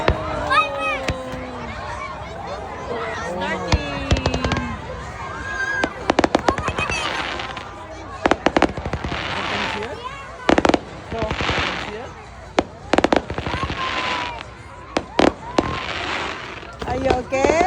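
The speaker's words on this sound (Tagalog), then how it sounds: "Did you see that? Fireworks!" Fireworks bursting outdoors at a summer display, a long run of sharp bangs and crackles at irregular intervals, some near and loud, with people talking and a voice throughout.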